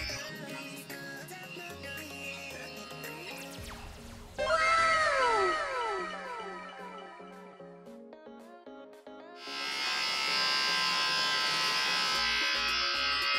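A Remington Virtually Indestructible hair clipper hums steadily close by during a haircut. Its buzz rises and shifts in tone as it moves, over a wavering musical backdrop.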